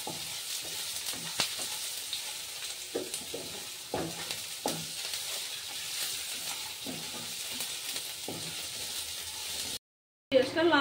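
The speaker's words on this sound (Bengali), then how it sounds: "এবার পেঁয়াজগুলোকে লাল লাল করে ভেজে নেব।" Chopped onions fry in hot oil in a pan for a rui fish curry, a steady close sizzle broken by occasional sharp stirring scrapes, then a brief dropout before the sizzle returns near the end.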